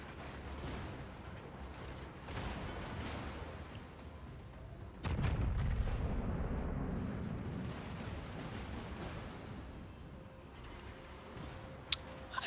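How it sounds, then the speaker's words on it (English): Heavy battleship broadside gunfire in the naval combat game World of Warships, with two battleships trading salvos; a loud, rumbling boom erupts midway and rolls on for several seconds, following quieter distant firing, with a sharp crack near the end. "It's not every day you see 2 battleships going full broadside."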